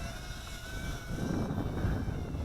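A small Lian Sheng LS121 toy drone flies outdoors in strong breeze, giving a faint steady whine of rotors over low, rumbling wind noise.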